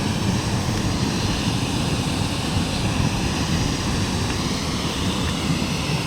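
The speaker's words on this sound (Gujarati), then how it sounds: "પાણીનો અવાજ કેવો આવે છે" Water rushes over Dantiwada dam in a loud, dense, unbroken roar, a steady broadband torrent heard close with no pauses or other sounds.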